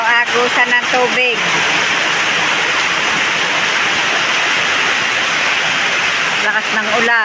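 Heavy rain pours down steadily as a hard, hissing downpour with water running off, close and loud throughout, while a voice talks briefly at the start and end.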